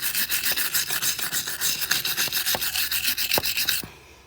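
A brush or pad scrubs dirt and rust off a wheel hub part from a 1997 Ram 1500 4x4, making steady back-and-forth rasping strokes, loud and close, that stop abruptly near the end.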